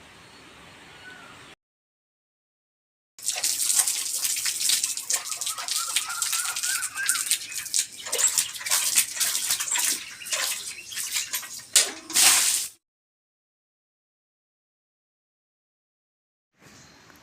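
Water is sprinkled across a front yard before a kolam is drawn, making close, bright splashing and spattering for about nine seconds. Quiet stretches come before and after, with no voices.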